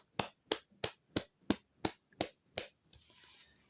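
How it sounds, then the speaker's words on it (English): Eight slow, evenly spaced claps ring out at Guy Fawkes night fireworks as a small group applauds Luigi, crisp and close, before a short soft fizzing hiss at the end. "Give Luigi a round of applause."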